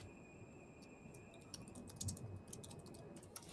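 Quiet, irregular clicking of keys on a computer keyboard, with scattered taps and short bursts over a faint steady background hum and no talking.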